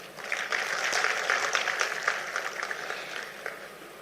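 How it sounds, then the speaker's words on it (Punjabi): An audience applauds teachers at a gathering in Punjab, a dense, steady clatter of many hands clapping that holds for several seconds and slowly thins toward the end. "ਇਹਦੇ ਵਾਸਤੇ ਮੈਂ ਤੁਹਾਡੇ ਲਈ ਤਾੜੀ ਮਾਰਦਾ"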